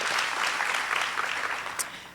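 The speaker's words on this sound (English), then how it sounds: "Let's have a round of applause for our service members and the talented Lacey Smith" Audience applause at a National Civics Bee regional competition, honoring service members and a performer: a dense, steady wash of many hands clapping for about two seconds, fairly loud and even, easing slightly at the end.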